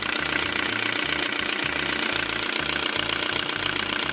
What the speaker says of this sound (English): they do kind of sound like tractors.